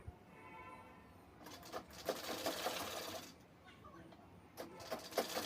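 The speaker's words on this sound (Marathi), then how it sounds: "अगदी कॉर्नरला दापटीप द्यायची आहे आपल्याला इथे" A sewing machine topstitches the corner of a half princess-cut blouse in short bursts, its whirring run starting and stopping at close range, with quiet gaps between passes.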